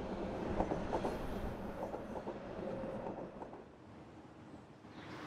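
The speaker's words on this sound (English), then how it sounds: "Over that wall is a subway and the expressway." A subway train rumbles past on the far side of a wall beside an expressway, with steady clickety-clack wheel rhythm over a continuous low roar that fades slightly toward the end.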